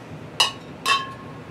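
Glasses clinking in a toast of beer, two bright ringing clinks half a second apart, close and crisp in a quiet room.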